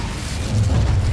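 An Incendio fire spell bursts in Hogwarts Legacy, a rumbling low boom that swells and sustains through the second with a dense, roaring body and no talk over it.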